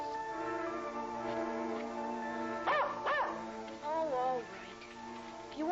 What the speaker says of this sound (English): What's that crazy dog up to now?